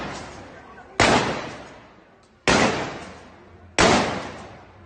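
Three loud, sharp blasts from fireworks or firecrackers set off by protesters in France, evenly spaced about one and a half seconds apart, each followed by a long echoing decay in the open street.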